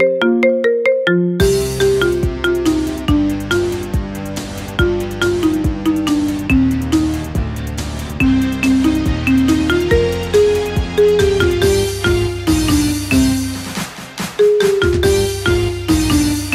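A marimba remix of the Sailor Moon theme plays as a phone ringtone, bright mallet notes in a steady, bouncy melody over a driving beat, loud and continuous with a brief pause near the end.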